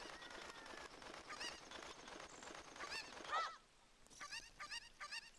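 A cucco chicken in Zelda: Ocarina of Time clucks and squawks in repeated honking calls, heard over continuous game background sound.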